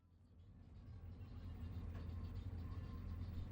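A taxi car drives along a road in Senegal, its engine and road rumble steady and building slightly, heard from inside the cabin with no talk.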